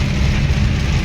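Heavy rain pounds steadily on a car driving slowly through a downpour, a dense, continuous roar with the engine faintly underneath and no voices.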